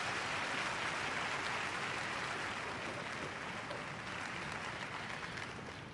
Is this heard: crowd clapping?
yes